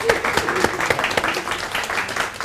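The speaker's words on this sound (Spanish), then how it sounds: "Fuerte aplauso, por favor." Audience applause at a round-table award presentation, with brisk individual claps standing out within a short burst of clapping from a modest crowd.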